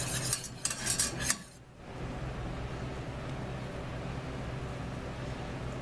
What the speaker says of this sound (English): We're going to whisk it. Whisk it well.